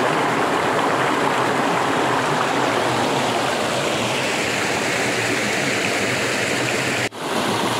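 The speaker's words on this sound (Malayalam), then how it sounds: "ഒരു ഉറവ കണ്ടെത്തിയിട്ടുണ്ട് കേട്ടോ പാറൻ്റെ ഇടയിൽ" Water from a spring rushes steadily between rocks near a waterfall in Valanchery, Malappuram, a continuous broadband flow heard close and alone, cutting off abruptly near the end.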